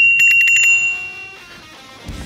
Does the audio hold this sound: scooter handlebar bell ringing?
yes